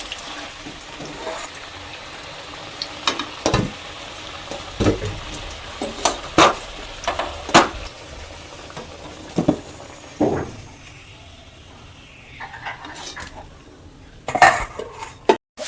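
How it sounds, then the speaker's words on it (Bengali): Bay leaf, dried chilli, cardamom, clove and cinnamon tossed into hot oil in a pan used for chicken curry, producing a soft sizzle beneath repeated metal clinks and scrapes of a utensil against the pan, with no talking. "ওই তেলেতেই আমি তেজপাতা, শুকনো লঙ্কা, এলাচ, লবঙ্গ আর দালচিনি দিয়ে দিলাম।"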